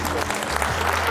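Short burst of audience applause at a public event with a city mayor, dense clapping from a crowd that sounds fairly close, alongside a faint voice.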